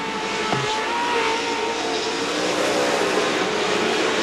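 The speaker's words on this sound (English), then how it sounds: "these guys are racing each other pretty hard right now, which is letting Johnny Greaves just have a" Off-road race trucks in a CORR event at Chula Vista in 2008, a loud steady roar of engines on track, continuous and dense without a break.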